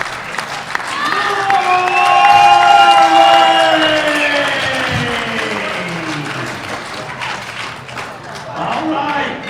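Crowd at a men's 105 kg powerlifting world championship erupts in loud, sustained applause and cheering after a lift, with whistles and shouts building, then slowly easing before a late swell.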